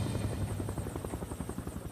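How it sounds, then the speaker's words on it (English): A helicopter flying over an aircraft crash site, its rotor chop beating fast and regular with a steady engine drone, fairly faint and distant with no voices. "The first helicopters that flew over the site found just sort of an aircraft obliterated"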